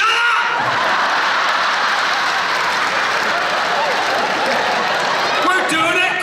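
A convention crowd at a John Barrowman Q&A panel claps loudly and continuously, a thick sustained roar of applause with some voices and laughter mixed in.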